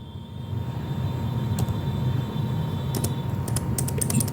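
Keys click on a computer keyboard in scattered taps, sharpening into a quick cluster of Enter presses near the end, close but light over a steady low rumble and a faint electronic whine.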